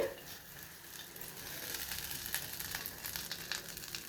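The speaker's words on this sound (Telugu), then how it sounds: "చిన్నగాకును కూడా మంచిగా వేయించుకోవాలి." Chennangaku leaves fry in a pan with a soft, steady crackle and hiss, faint and even over a few seconds, with a couple of light ticks and no voices.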